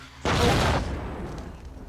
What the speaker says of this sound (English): Somebody trips a wire and the whole place blows up.